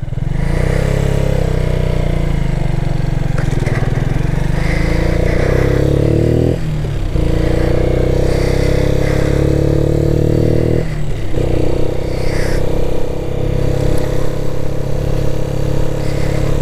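A Keeway motorcycle ridden on a sunny country road, its engine droning loudly and close with steady mid-pitched revs, dropping briefly twice as the rider shifts gears, then pulling again.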